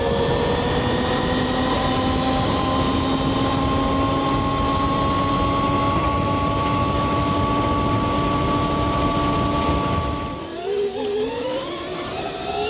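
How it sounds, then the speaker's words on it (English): An electric dirt bike accelerating hard, giving a loud steady motor whine with rising tonal pitch and wind rush that continues for about ten seconds before the tone sweeps and shifts near the end. "it's a pure acceleration from, oh, this thing's got so much torque now"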